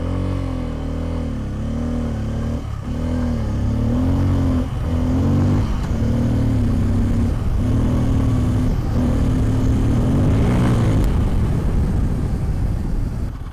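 Bajaj Pulsar N250 with a 249 cc engine pulling under load: a steady, close engine drone whose pitch wavers and climbs as it accelerates, with rushing wind noise building toward the end and no talking.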